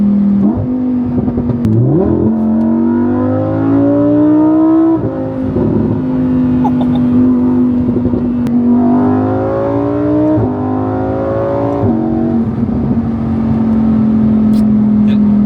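A Lamborghini Huracan convertible supercar driving in Dubai, its loud engine holding a steady close drone and climbing through several repeated rising revs as it pulls.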